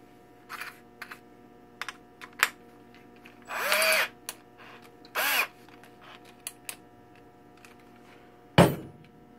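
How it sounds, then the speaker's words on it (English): A power drill with a Phillips bit drives a screw into a stop-motion puppet armature, whirring in two short bursts, close by, with scattered clicks and taps in the quiet gaps between them. "I'm going to see if I can drill that in without too much of a problem."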